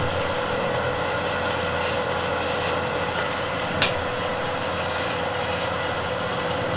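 A negative rake scraper's point finesses a bead on wood turning on a lathe, giving a steady, close, continuous raspy scraping with a couple of faint ticks and no talking.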